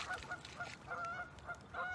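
Outdoors, a single goose honks repeatedly in short, evenly spaced bursts, fairly close and clear against a quiet background with no talking.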